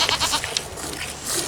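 Milking goat bleating nearby in a few short wavering cries, with farmyard background noise.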